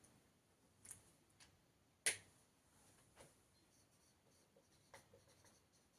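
Pen or chalk writes faintly during a lecture, a few soft, sparse scratching taps with one sharper tick, quiet and distant against near silence, with no talking.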